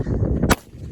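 A single loud shotgun blast cracks outdoors in the Texas heat, fired at a green barrel, cutting sharply through a low rumbling background before dropping into a quieter tail.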